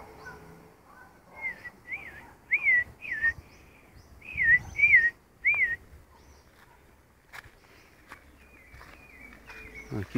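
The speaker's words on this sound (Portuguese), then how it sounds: "sabiá cantando." A sabiá thrush sings in a replanted wooded area with a mango tree, a series of clear whistled phrases repeated in quick succession at close to moderate distance, then quieter calls over faint insect hum.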